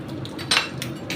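A spoon clinks against a bowl while peanuts are added to a papaya salad, with one sharp metallic tap standing out among a few faint lighter clicks in a quiet kitchen.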